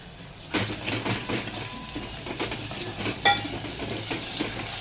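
Coriander and curry leaves fry in a pan, producing a continuous close sizzle with rhythmic stirring scrapes and a sharp clink of utensil against metal midway.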